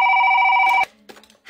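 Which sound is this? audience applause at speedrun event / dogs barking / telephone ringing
telephone ringing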